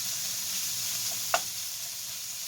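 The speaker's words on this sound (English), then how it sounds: "we're just going to get the bacon nice and browned up and get everything separated" Bacon sizzles steadily in a non-stick pan, a constant hiss of frying fat, with one brief scrape of stirring partway through and no voices.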